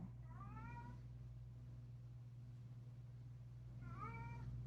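A house cat gives two soft, drawn-out meows, one near the start and one near the end, separated by quiet room hum with no talking.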